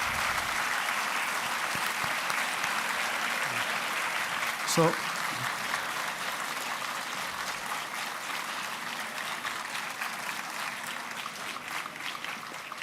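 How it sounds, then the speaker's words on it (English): An audience at a lecture event at IIM Calcutta claps in steady, sustained applause for about thirteen seconds, with a brief spoken word near the start. "So I think we should give an applause to them."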